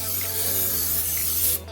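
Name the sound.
cooking spray sprayed onto polenta pizza crust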